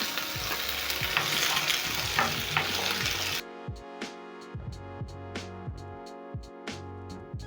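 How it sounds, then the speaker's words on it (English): Peeled, washed potatoes frying in oil in a pan over medium heat, a steady close sizzle that is stirred and tossed, giving way to quieter crackling with intermittent scraping taps. "So I'm going to add my potatoes in my pan"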